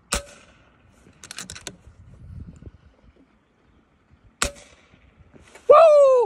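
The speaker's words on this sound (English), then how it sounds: "3 for 3 goes to show you the precision of an FX air gun" An FX Panthera air gun fires at exploding golf balls 150 yards downrange: sharp cracks spaced seconds apart, each followed by a short burst, with quiet gaps between and a loud whoop of excitement at the end.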